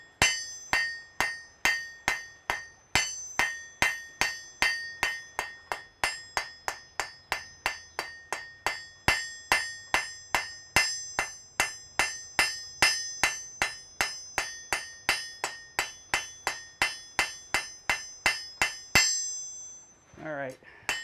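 A hammer strikes an anvil in a smithy with about forty sharp, ringing metallic blows in a steady rapid rhythm, loud and close, followed by a brief scraping sound at the end.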